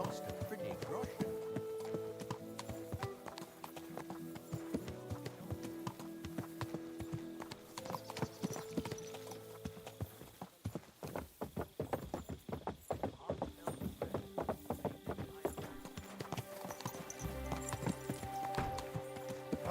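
Horse hooves clip-clop steadily in the medieval game Kingdom Come: Deliverance 2, a continuous rhythmic trot under faint background and occasional speech.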